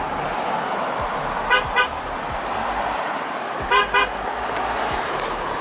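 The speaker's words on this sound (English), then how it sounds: "Well, I honked at her" A car horn gives two short double honks a couple of seconds apart, moderately near, over a low rumble of idling and passing road traffic.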